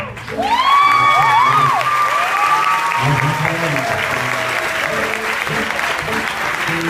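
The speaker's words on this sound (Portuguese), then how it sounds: "Palmas para vocês. Essas palmas são para vocês." An audience at a testimony gathering claps loudly and continuously, a dense sustained patter with some cheering, while a voice rises in sung or exclaimed tones over the top.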